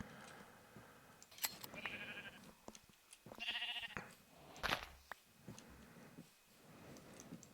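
Sheep in the video game Minecraft bleat several times in short, nasal calls, fairly quiet against a soft game background with light clicks and ticks in between.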